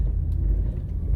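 A car driving along Port Royal Street beside a coastal revetment project downtown, heard as a brief, steady low road and engine rumble from inside the vehicle, with no voices.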